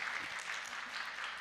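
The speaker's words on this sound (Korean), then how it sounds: "우리 박수로 환영 드리겠습니다" A church seminar audience applauds steadily, a dense, even patter of many hands clapping with no pauses.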